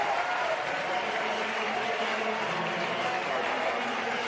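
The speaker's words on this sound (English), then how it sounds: "She gets a wonderful applause, raises her bat to the dugout" A cricket crowd applauding Meg Lanning's ninth ODI century, a steady, even patter of clapping at moderate distance that holds throughout without a break.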